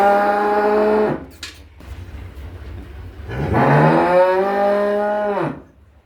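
Cattle low loudly at a livestock sale where a young calf is being offered, two long drawn-out moos with a pause between them, close by and with no talking over them.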